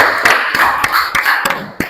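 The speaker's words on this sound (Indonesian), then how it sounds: "Tepuk tangan buat anak-anak semuanya." Children clap their hands together in a classroom, a quick series of sharp, close claps in an uneven rhythm.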